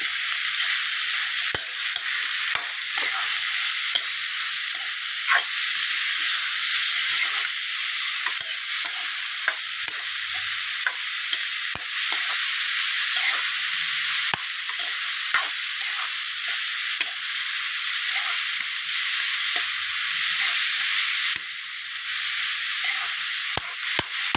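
Chopped vegetables sauté over high flame in a pan for vegetable fried rice, a loud continuous sizzle broken by frequent stirring scrapes and clatter, with no one speaking.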